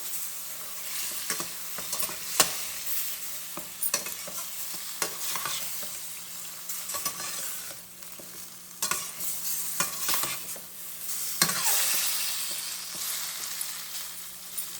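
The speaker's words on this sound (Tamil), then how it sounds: "பாருங்க, புளி கரைச்சல் ஊற்றுறேன்." Tamarind water goes into a simmering prawn gravy in a pan, bringing a steady sizzle and bubbling with intermittent stirring and scraping clinks, moderately loud and close throughout.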